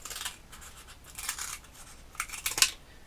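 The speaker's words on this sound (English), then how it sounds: "Just cut it with scissors." Scissors snip through a foam coffee cup in a few quiet, crisp bursts of crunching cuts, separated by short pauses, close by in an otherwise calm room.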